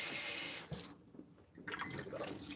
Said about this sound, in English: So let me pour these potatoes.